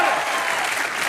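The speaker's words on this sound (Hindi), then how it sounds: "जोरदार तालियां इनके लिए।" Studio audience applause on a comedy talk show during a Navratri special, a dense, loud wash of clapping from a crowd filling the brief moment without talk.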